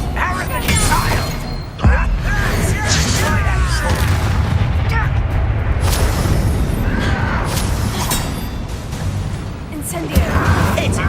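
Fiery spell blasts in Hogwarts Legacy, booming bursts that recur through a loud, chaotic battle with music and voices speaking over them.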